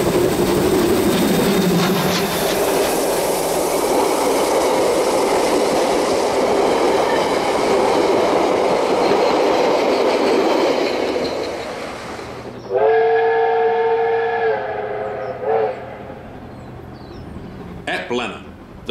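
Steam Incorporated tour train running between Blenheim and Picton, a loud steady rumble and clatter of the passing train that fades out, followed by several clear horn or whistle blasts.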